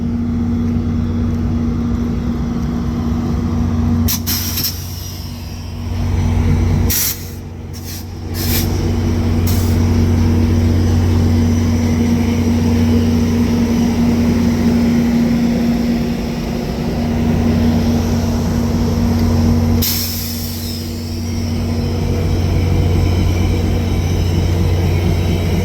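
A VIA passenger train sits at The Pas station, its diesel rumbling in a continuous low hum with a steady tone, broken by a few brief hisses and bangs.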